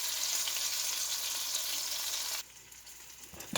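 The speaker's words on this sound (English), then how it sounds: "I'm going to flip this baby over and brown that a little bit" Chuck roast browning in a hot pan, a steady loud sizzle and crackle of searing meat that drops abruptly to a quieter, softer sizzle near the end, with no talking.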